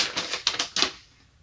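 Paper pulled out of a shoe box for Vans Blur Check Authentic sneakers, a quick run of crisp rustling crinkles, several close sharp bursts that fade to quiet within about a second.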